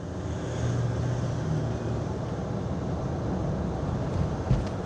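A Range Rover pulling away and gathering speed to about 20 mph, heard as a constant low engine and road drone from inside the car, with a brief thump near the end.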